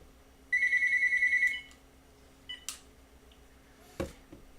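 A telephone rings once with a bright, warbling electronic trill lasting about a second, followed by a few soft clicks and a short thump in an otherwise quiet room.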